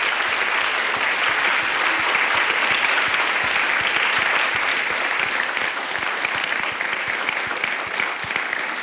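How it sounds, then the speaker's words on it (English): At a women's leadership event, an audience gives a big round of applause, steady and full for nearly nine seconds, easing slightly toward the end. "So could we have a big round of applause for all of our sponsors?"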